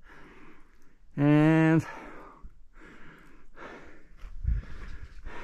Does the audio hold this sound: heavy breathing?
yes